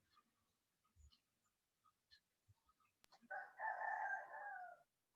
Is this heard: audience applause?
no